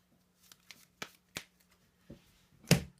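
Brief crisp riffles and taps of a Weiss Schwarz trading card deck being shuffled, a handful of quick separate bursts ending in one louder snap, close and quiet.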